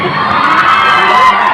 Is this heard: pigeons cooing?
no